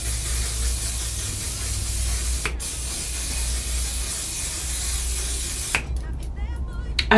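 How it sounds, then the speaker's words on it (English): A One/Size makeup fixing spray is misted onto a face in a long, continuous, close hiss with a short break partway through. It ends with a few softer sounds and rustles. "Right now, I'm gonna go ahead and spray my face with my fixing spray."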